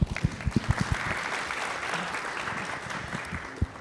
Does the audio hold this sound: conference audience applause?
yes